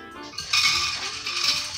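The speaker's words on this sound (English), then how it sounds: "So I'm just going to dump these in the crock pot." Dried fifteen-bean soup beans are poured into a crock pot, a brief rattling cascade of small hard beans hitting the pot, fairly close and moderately loud, lasting just over a second.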